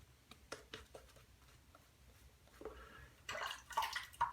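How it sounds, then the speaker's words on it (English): A shaving brush lathers Barrister and Mann shaving soap, giving quiet, intermittent soft patters and wet swishes that grow busier and louder toward the end, with a few faint drips. "there's something about the way it sounds when you're lathering"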